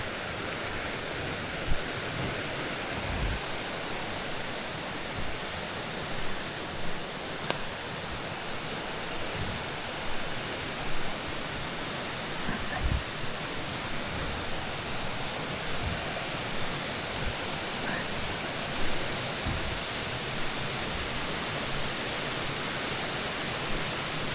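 Water rushing down a forming waterfall beside a descending trail near a bridge in Canela, a steady broadband roar filling the whole stretch with no voices, close and continuous.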